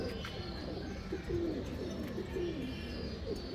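Pigeons coo in repeated soft, low bursts, close by, against a steady background hum with a few faint chirps.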